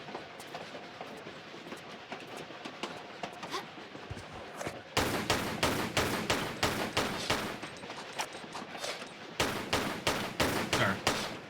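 Rapid bursts of gunfire from the Tomb Raider: The Last Revelation video game, a steady crackle that becomes louder, dense sharp volleys about halfway through, pauses briefly, then resumes, with no voices over it.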